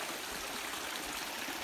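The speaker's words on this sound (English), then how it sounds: "There's a bit of a waterfall here, goes down around the corner." Small waterfall on Lynx Creek in Arizona, a steady close rush of splashing water with a continuous broadband hiss and no pauses.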